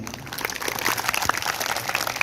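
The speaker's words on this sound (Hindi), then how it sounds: "उनके लिए सबने ताली बजाई।" An audience at a women's saints' gathering in a Shahbad temple claps steadily, a dense, even patter of many hands with a few sharper claps standing out near the end.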